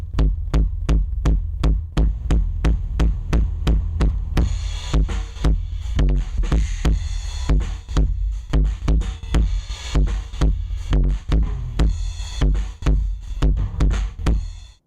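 Drum loop driven through a squashed compressor on a choppy preset with tube saturation overdrive in Sonar's Pro channel strip, giving a loud, relentless run of distorted pulsing hits with gritty hiss that thickens partway through, no voices.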